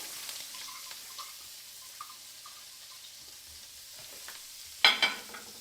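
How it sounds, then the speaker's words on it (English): Onions sautéing in a pan for meat pie filling, a faint soft sizzle with light scattered ticks of stirring, ending in a sudden brief louder burst of sizzle as more go in. "So the first thing to do is I'm going to add our onions,"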